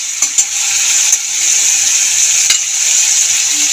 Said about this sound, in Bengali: টমেটোটা ভাজা হয়ে গেছে কাঁচা গন্ধও নেই